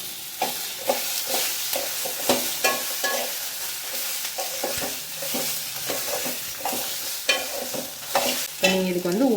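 Tomatoes with green chillies and spices sauté in a pan for tomato rice, a steady sizzle broken by repeated scrapes and clatters of a stirring spoon against the pan, close and fairly loud with no talking.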